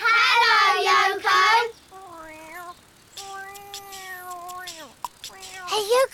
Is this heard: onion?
no